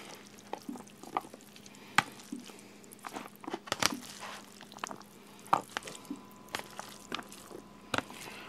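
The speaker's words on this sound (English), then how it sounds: "Mix this all together." Cooked vegetables are stirred together in a pan, giving soft, scattered wet squishes and scrapes with faint sizzling underneath, fairly quiet and close.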